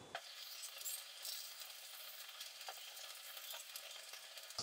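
Chickpeas (chana) frying in hot oil, giving a steady, faint, bright sizzle with occasional soft crackles and stirring scrapes close by.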